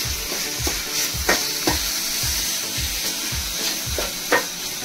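Grated coconut and jaggery stirred together in a pan over low heat, a loud steady sizzle with rhythmic spoon strokes and occasional scrapes, close up.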